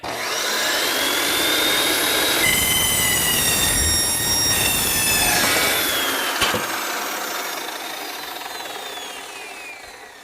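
Saw blade cutting through a hole in a metal robot chassis part: a steady, loud, continuous grinding rasp with shrill squealing overtones lasting about ten seconds, close up and without talk.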